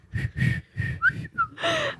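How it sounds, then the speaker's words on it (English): A woman whistles while walking, giving a run of short breathy whistled notes with a couple of rising chirps and a longer final tone. No talking is heard. "Go ahead and whistle while you walk."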